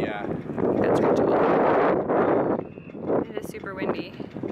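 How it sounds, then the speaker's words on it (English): Strong wind buffets the microphone at a sailing race, a steady loud roar with gusty swells and brief dips, while people talk intermittently over it. "It is super windy."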